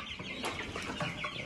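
Afsaloop Splash chickens cluck softly in a coop, a few short close-up calls scattered over a quiet background.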